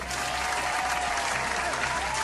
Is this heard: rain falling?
no